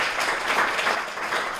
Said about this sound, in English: So much applause to Ann Beauregard.